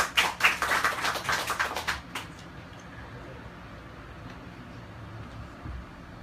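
Children or audience clapping in an indoor classroom-style session on Southeast Asian languages, a short burst of fairly close, quick handclaps for about two seconds that then stops, leaving quiet room tone.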